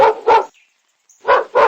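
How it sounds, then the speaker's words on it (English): A dog barks twice in quick succession, pauses briefly, then gives two more sharp barks, loud and close with no other sound around them. "dog."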